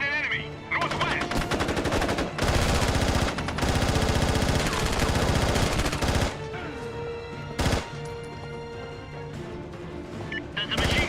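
Machine gun fire in SOCOM U.S. Navy SEALs 3, long loud rapid bursts of automatic shots filling several seconds, then shorter bursts with gaps and a single sharp shot, close and dense.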